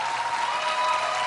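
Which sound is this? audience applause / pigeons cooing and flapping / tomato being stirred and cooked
audience applause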